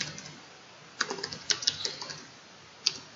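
Keys tapped on a computer keyboard while entering text in Illustrator, a few quiet scattered clicks with short gaps between bursts and no voices.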